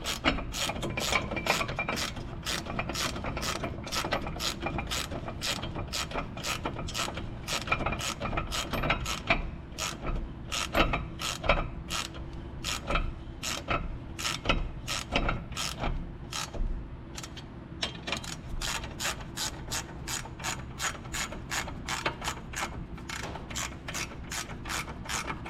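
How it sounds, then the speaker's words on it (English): A wrench ratchets the front brake caliper bolts down on a 2017 Ford Fusion, giving a long, steady run of rapid close clicks with a short pause partway through. "grab your wrench, go ahead and run them on down in there"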